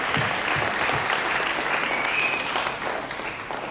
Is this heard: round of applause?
yes